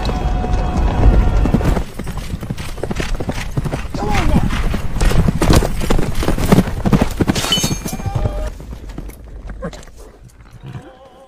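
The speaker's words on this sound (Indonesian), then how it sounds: "Kedua kuda itu dilatih secara militer dan Joy mampu mengungguli Top Thorn selama balap lari." Horses trained for World War I cavalry gallop in a race, rapid clip-clop hoofbeats pounding loudly, with a whinny and other sounds layered over them before they thin out near the end.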